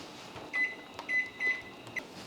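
Kitchen timer being set, giving four short high electronic beeps at uneven intervals over a faint steady appliance hum, close by.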